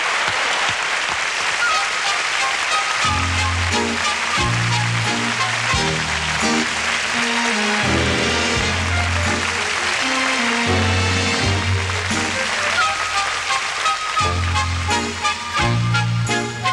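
Audience applause for a singer at a copla performance, clapping running throughout over loud musical accompaniment with steady low rhythmic notes.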